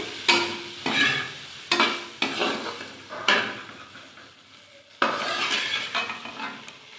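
Dry okra sabzi with masala spices frying in a large kadai, stirred in repeated scraping strokes with a steady sizzle underneath, close and fairly loud, with no talking.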